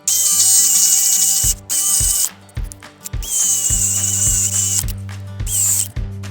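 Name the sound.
drilling holes with a 3/4-inch Forstner bit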